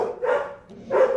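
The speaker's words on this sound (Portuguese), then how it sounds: "Agora os cachorros resolveram fazer barulho, vocês viram, né?" Two loud bursts of dog barking close by, about a second apart, with a brief lull between them and no talking.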